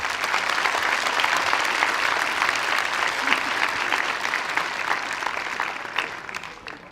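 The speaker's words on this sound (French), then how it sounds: "Je vous demande de les applaudir encore une fois." Audience applause for guests at a convention opening ceremony, a dense, steady clapping crowd filling the hall, sustained at even loudness before gradually thinning out toward the end.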